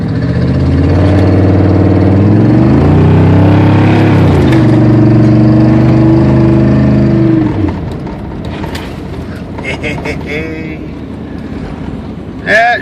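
A plow truck's engine revs hard and loud for several seconds with rising and falling pitch, then drops back to a lower rumble as a voice talks over it.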